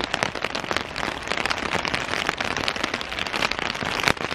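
Steady rain falling and pattering densely on surfaces nearby, a continuous crackling hiss of drops with no voices.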